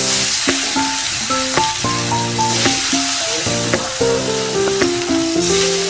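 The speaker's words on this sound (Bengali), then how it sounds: "তেলটা গরম হয়ে গেছে এবার আমি মাছটা দিয়ে দিচ্ছি" Rohu fish frying in hot oil, a steady loud sizzle with crackling spatter that runs throughout, while background music plays over it.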